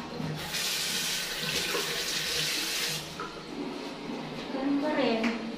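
Water runs from a shower in a newly turned-over 7th-floor condo unit in Shore 2 Tower 3, a steady hissing spray for about three seconds that then fades into quieter splashing and room noise.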